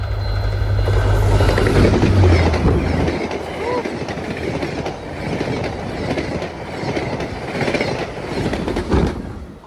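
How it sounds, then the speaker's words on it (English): VIA Rail train 72, hauled by an F40 locomotive, rushes past at about 130 km/h, a loud roar with rapid clickety-clack of wheels over rail joints, a low engine drone at the start fading as the cars stream by. "It's Via72 with another F40, doing about 130 kilometers an hour."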